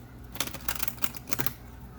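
A deck of cards is riffled in a quick burst of crisp flutters and taps, up close and fairly quiet.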